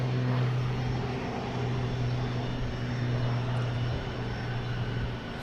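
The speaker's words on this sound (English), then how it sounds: "Is the Cape Air rainbow flag livery taking off, heading out of here?" A Cape Air plane in rainbow flag livery taking off at Boston Logan Airport, its propeller engine giving a steady droning hum with a low tonal buzz over a constant broadband rush.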